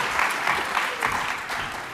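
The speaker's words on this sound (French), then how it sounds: "On vous applaudit, comme ça, on comble le temps." Audience applause at a French public event in an assembly hall, a brief burst of steady clapping from a crowd.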